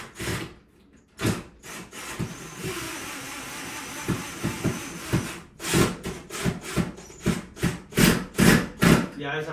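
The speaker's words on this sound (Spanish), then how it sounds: "ahora lo que hay que hacer es poner los tornillos estos" Screws being tightened into the mount of an illuminated bathroom mirror, heard up close as a run of scraping, rubbing strokes that come in short, uneven bursts and grow more rhythmic toward the end.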